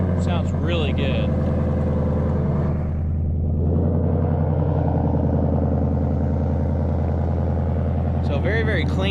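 A Ford Shelby Super Snake truck's loud aftermarket exhaust rumbles at a steady low idle, then swells into a sustained rev before settling back, with brief talk at the start and end.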